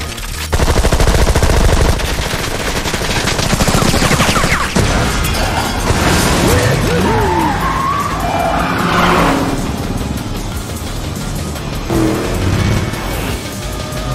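A Gatling gun fires in rapid bursts during a Cars 2 spy video game chase, loud rattling gunfire layered over car engines, tire skids and game effects, with no talking.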